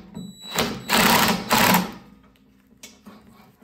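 A bolt is tightened on the auger of a PowerSmart snowblower with a power tool: two loud, close buzzing bursts of about half a second each, then a fainter short burst, with quiet between them.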